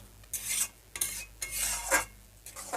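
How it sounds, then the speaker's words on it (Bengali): Egg tadka curry with garam masala is stirred in a pan: four or five rhythmic scraping strokes of a spoon against metal, close and distinct, over a faint background hum. "গরম মশলা দিয়ে আমি এটাকে একটুখানি নাড়াচাড়া করব"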